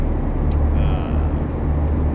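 An International ProStar truck's engine brake in American Truck Simulator drones with a loud, steady low rumble, with brief faint hiss bursts on top and no voices.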